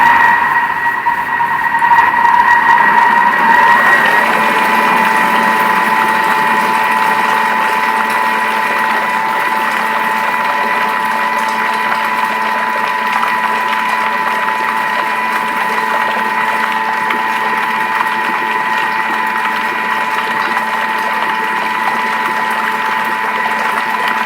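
A Thermomix mixing lasagna ingredients on speed 4 with the lid on, a loud steady motor whine with a constant pitch and a faint churning hum, running unbroken throughout.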